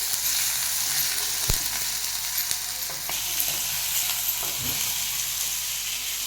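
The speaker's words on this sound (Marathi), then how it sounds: "कांदा मी चांगला परतून घ्या ना चांगला परतून घ्यायचा आहे ना" Chopped onion frying in a pan for a village-style mung dal curry, giving a steady broadband sizzle throughout with a few brief stirring clicks and scrapes, close up and with no voices.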